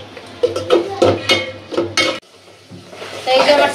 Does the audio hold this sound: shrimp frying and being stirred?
yes